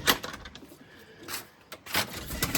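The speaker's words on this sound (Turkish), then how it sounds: "O kadar çok kuş var ki bakın yavrular var." Soft pigeon coos and rustling come in short bursts at a moderate distance, with some faint background noise between them.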